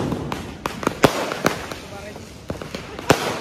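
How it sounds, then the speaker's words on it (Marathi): Sutli bomb firecrackers go off during Diwali celebrations as a string of sharp, loud cracks at irregular intervals, with people shouting and talking nearby. "हा बघ, सुतळी बॉम्ब हातातून टाकताय."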